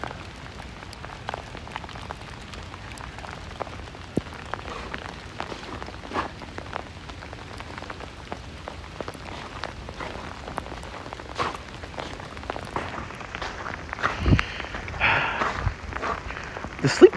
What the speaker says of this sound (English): The sleet pellets are getting really big now.